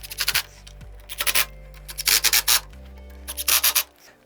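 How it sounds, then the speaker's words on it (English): Hex bit driver tightening the arm screws on a Herman Miller Aeron Classic chair, giving short bursts of ratcheting, rubbing clicks in several quick clusters, close up with no talking. "this is going to be a 5mm hex bit to tighten all these up."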